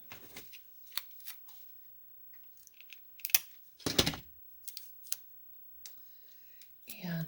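Sticky tape being pulled and pressed onto a small magnet, heard as quiet, close, scattered crinkles and clicking taps with gaps of silence between them.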